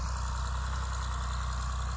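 A John Deere 4020 tractor engine idles steadily and loudly, a constant low rumble with a fine mechanical throb and no pauses.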